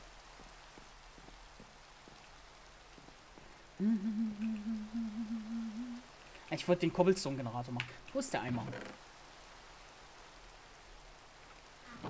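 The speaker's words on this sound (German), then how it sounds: "Jetzt regnet es auch noch." Rain falls in the video game Minecraft (SkyFactory 3) as a soft, steady patter throughout, faint in the background beneath someone talking, with some humming and other game sounds in the middle.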